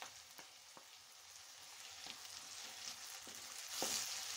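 Onions sizzle softly in a pan as tomato goes in, a steady quiet frying hiss broken by a few light clicks and scrapes of a utensil, building slightly toward the end, with no talking.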